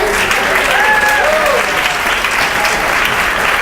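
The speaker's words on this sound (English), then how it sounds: "Another round of applause." Town hall audience applauding four members of Congress at a Green New Deal event in NYC, dense and steady clapping from a crowd throughout.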